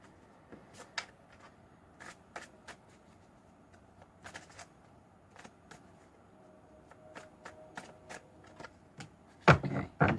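Soft riffling and slapping of tarot cards being shuffled, scattered taps and flicks spread out over several seconds, ending in a louder cluster of handling noise.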